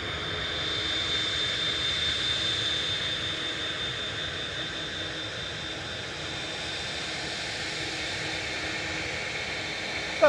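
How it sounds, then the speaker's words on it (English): An Aer Lingus Airbus A330-300 arriving from Orlando at Manchester Airport gives a steady, moderately distant jet roar with a thin high whine, holding evenly throughout with no voices. "That's the Aer Lingus from Orlando, flight 34, G Isla, A330-300."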